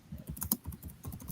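Fingers tap quickly on a computer keyboard, a close, uneven patter of light clicks with one sharper key strike, quiet and without talk.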